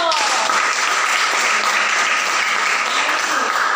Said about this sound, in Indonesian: tepuk tangan buat si Nando